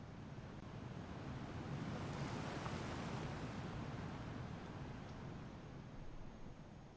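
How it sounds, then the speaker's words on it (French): A waterfall in the video game The Isle Evrima gives off a soft, steady rushing roar, faint and even from start to finish, with no voices over it. "Allez, une cascade."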